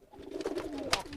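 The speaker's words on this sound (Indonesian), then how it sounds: "Nanti yang dihasilkan merpatinya giring seperti ini." A domestic pigeon coos (giring) close by, a loud, rolling low burble that swells and holds steady through the moment, with no voices over it.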